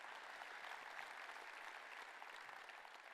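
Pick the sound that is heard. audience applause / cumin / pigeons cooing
audience applause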